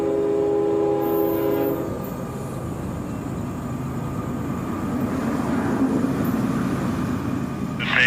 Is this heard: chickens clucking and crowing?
no